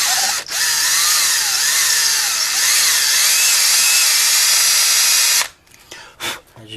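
A power drill runs in reverse with a left-hand technique to back out a stuck screw, a loud, steady high whine close by for about five seconds, then stopping.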